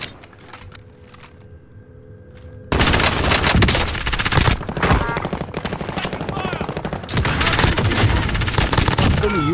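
Gunfire in Call of Duty: Modern Warfare bursts in loudly after a quieter start, with dense automatic fire, sharp single shots and booms piling up close by in rapid, overlapping volleys.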